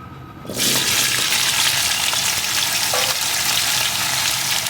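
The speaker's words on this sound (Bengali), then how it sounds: "তেলটা ভালো রকম গরম হয়ে গেছে এখন এর ভিতরে আমি কেটে ধুয়ে রাখা কাঠি কচুগুলো দিয়ে দেবো" Cut and washed gathi kochu (taro stems) dropped into well-heated mustard oil, bursting into a loud, steady sizzle that runs on without a break. No one talks over it.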